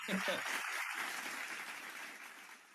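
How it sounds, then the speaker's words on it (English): A crowd cheers and applauds wildly in a broad, continuous wash of noise, fairly faint and even throughout, with a few brief voice fragments near the start. "And the crowd goes wild"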